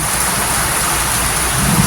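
Heavy rain pours down in a dense, loud, unbroken roar with no letup, and a low rumble builds briefly near the end.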